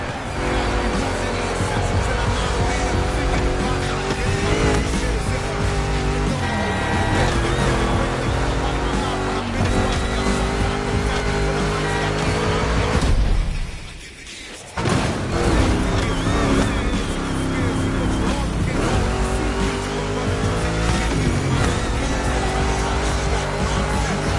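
A giant Mustang GT roars through a two-lap race in a video game, its engine revving hard with tire squeals and skids. The sound is loud and continuous, dropping out briefly near the middle before surging back.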